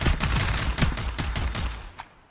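Rapid automatic gunfire in the shooter FragPunk, a dense burst of sharp, evenly spaced shots close and loud, cutting off abruptly near the end.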